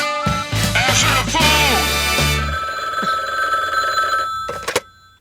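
A telephone bell rings loudly and close in a room, the ringing overlapping a burst of music and a voice at the start before trailing off into a quieter tail.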